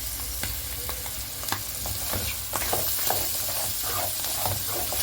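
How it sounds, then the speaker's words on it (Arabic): Mushroom piccata mixture with flour sizzles steadily in a frying pan while a spoon stirs it, giving frequent close scrapes and clicks over a continuous hiss. "ممكن بقى نقلب كله مع بعضه ياخد التحميره كويس"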